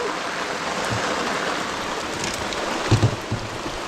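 Steady heavy rain hissing across the whole clip, dense and broadband, with a few dull knocks near the end.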